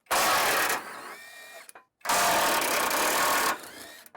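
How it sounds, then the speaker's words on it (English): A Bauer brushless 1/2-inch impact wrench loosens rusty 18mm bumper bolts, firing two loud, close bursts of rapid hammering about a second and a half each, separated by a short pause. "I'm going to be using my Bauer brushless 1/2-inch impact."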